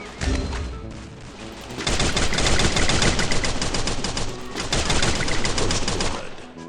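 Rapid bursts of automatic gunfire crackle through a Free Fire match, loud and dense, with a brief lull early on before sustained volleys resume and roll on nearly continuously.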